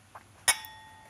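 Cups clink together in a toast over freshly made coffee at home, one bright sharp clink with a short ringing tail in a quiet room, preceded by a faint small knock.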